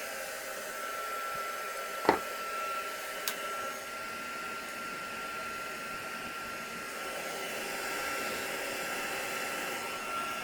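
A heat tool melting embossing powder on a Christmas craft project, a steady, close, continuous fan hum and blow with a couple of faint clicks and no talking.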